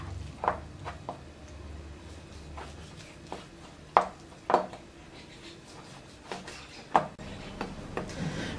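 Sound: knife chopping beef ribs on a board

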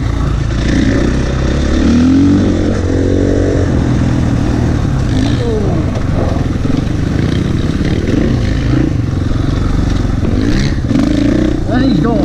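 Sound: KTM 450/500 EXC dirt bike motorcycle riding

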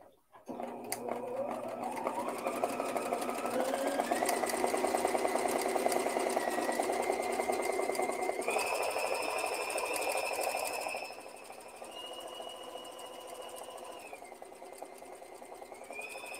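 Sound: sewing machine doing free motion embroidery

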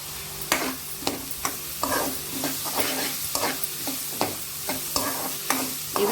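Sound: onions frying with turmeric and salt, being stirred in pan

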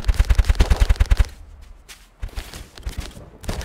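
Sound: shotgun firing in the video game Paint Warfare

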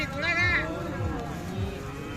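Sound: Khillar cow at cattle market

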